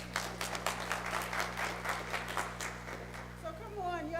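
Community meeting crowd at a neighborhood renaissance charrette clapping in a brisk, uneven round over a steady low hum, easing off as a voice begins at the end.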